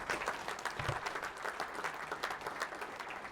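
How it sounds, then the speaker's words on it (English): An audience at a high school athletes-of-the-year awards event applauds, a steady, fairly distant wash of clapping that holds evenly throughout. "a round of applause for the absent but awesome Cameron Harris."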